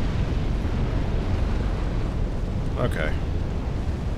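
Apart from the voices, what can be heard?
fire burning on the floor in Dark Souls 3 video game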